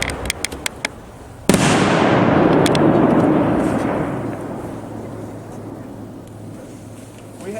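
Two Dominator 2.5-inch large gold willow shells fire at once, with a few sharp pops followed by a loud launch thump and a long hissing crackle that slowly fades.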